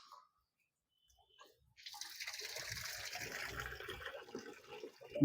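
Tap water runs into the tub of a semi-automatic washing machine, a steady broadband rush that begins after a short silence and keeps pouring at an even level, growing slightly louder at the end.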